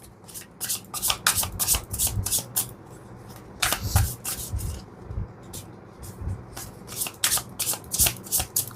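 An oracle card deck being shuffled by hand during a tarot reading gives repeated crisp, papery riffles and slides in quick bursts with short pauses between them, close and clear with no talking.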